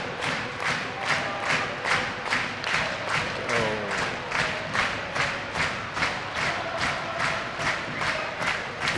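Sheffield Steelers fans at an ice hockey match against the Belfast Giants clap and drum in a steady rhythmic pulse, a large indoor crowd chanting together, with a commentator's voice over the noise.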